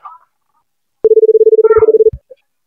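A telephone is dialed: a rapid run of about fifteen even keypad tones in one steady pitch, loud and close, preceded and followed by a few brief faint sounds.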